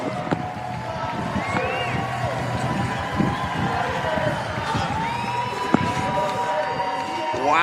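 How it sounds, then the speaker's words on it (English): A crowd at the FISE Edmonton 2017 BMX freestyle flatland pro final roars and whistles for Matthias Dandois, with sustained cheering under an excited commentator's voice. "the crowd in Edmonton is just going nuts, showing the love for the Frenchman"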